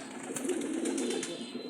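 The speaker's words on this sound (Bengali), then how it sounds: "সিলভার বাঘা কবুতর, সিলভার বেজি বাঘা কবুতর।" A silver Bagha pigeon gives a soft, low, continuous coo throughout, quiet and fairly close, with no talking.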